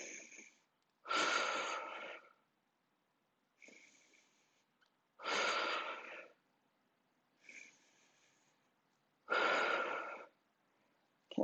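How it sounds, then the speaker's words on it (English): Heavy breathing in a Pilates class, strong forceful exhales alternating with quieter inhales in a steady repeating rhythm, close and without talk. "Lots of breathing."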